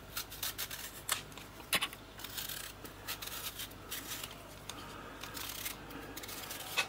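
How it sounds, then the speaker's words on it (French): Sweet potatoes being peeled: close, soft scraping and rasping strokes come in an irregular rhythm, fairly quiet, with no talk. "Je commence bien sûr par éplucher mes patates douces."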